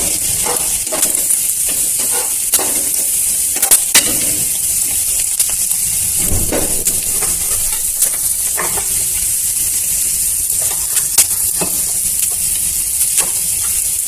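Green chillies frying in a pan of elephant foot yam and dried fish give a steady, loud hiss and sizzle throughout, with occasional sharper crackles and soft stirring bumps.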